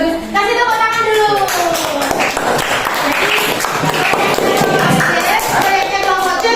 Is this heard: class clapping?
yes